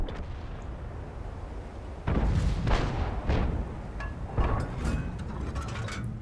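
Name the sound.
artillery gun shots in a tank video game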